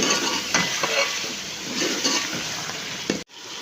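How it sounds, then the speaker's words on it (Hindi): Milk heating in a pot over a low flame, a steady close bubbling hiss with a few soft clicks and stirs, ending abruptly in silence. "इधर से हमारा दूध भी उबाइल हो रहा है। देखें हल्के की आँच में मैंने दूध उबाइल करने के लिए रख दी है बच्चों के लिए।"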